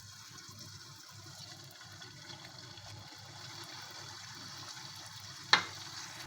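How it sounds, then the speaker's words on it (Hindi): Small spoonfuls of pua batter fry in hot oil, giving a soft, steady sizzle throughout, broken once near the end by a single sharp clink. "ये हमारे पोहे जो है वो फ्राई हो रहे हैं।"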